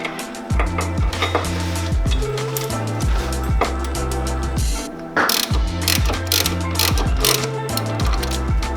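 A Snap-on torque wrench tightens brake hardware on a War Machine Endless brake upgrade, with close, rapid ratchet clicking in repeated bursts and short pauses between strokes, no talk.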